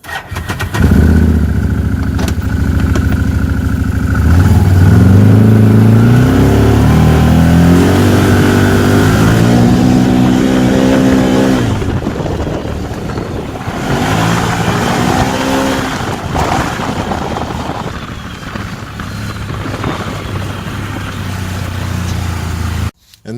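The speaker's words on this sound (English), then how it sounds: "I'm going to take the Can-Am Maverick out and go for a quick rip" A Can-Am Maverick side-by-side starts up and revs while riding, its engine loud and close, climbing and falling in pitch through repeated throttle pulls with a steady drone between them.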